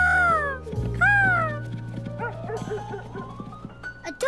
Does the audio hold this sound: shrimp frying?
no